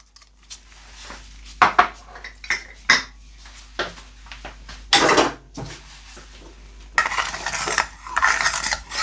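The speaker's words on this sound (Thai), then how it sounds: "คนส่วนผสมให้เข้ากันจนน้ำตาลละลายค่ะ" Stirring a coconut milk and sugar mixture in a pot for Thai bananas in coconut milk, with irregular metallic clinks and scrapes of a utensil against the pot, some sharper knocks and louder bursts, no speech.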